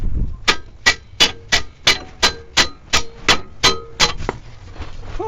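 A car control arm struck with a hammer during a wheel hub repair, giving about eleven loud, ringing metallic clangs at a steady pace, close by, followed by a brief scrape.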